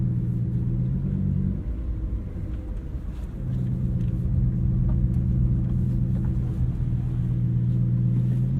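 A 2023 Lamborghini Huracan Tecnica sets off with a deep, steady engine drone that dips briefly and then swells back to a continuous loud rumble. No one speaks over it.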